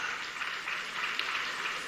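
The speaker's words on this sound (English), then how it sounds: "let's give her another round of applause" Audience applause at a measles-rubella vaccine flag-off ceremony, a brief, even wash of clapping from a crowd.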